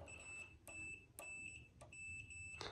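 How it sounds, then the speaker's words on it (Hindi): A digital multimeter in continuity mode beeps during a fuse and circuit check on a microwave oven, giving a string of steady, clear high-pitched tones broken by short gaps and a few sharp clicks from the probes. "ये देखिए मीटर का साउंड आपको मिल रहा है।"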